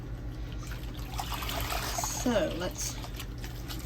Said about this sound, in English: get this all rinsed out